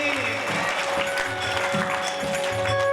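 Audience applause at a Shrimad Bhagavat Katha religious gathering at a cow shelter, a steady wash of clapping from a crowd that runs throughout at even loudness, with some speech and music tones audible beneath.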